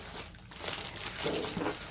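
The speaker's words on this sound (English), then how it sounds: "Lots of rustling here." Crinkly plastic packaging from Dollar Tree Easter craft and wreath supplies rustles and crumples steadily for about two seconds, close and fairly loud.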